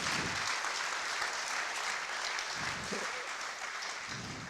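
An audience claps after a talk on user experience, sustained applause filling the room at a steady level and tapering slightly toward the end.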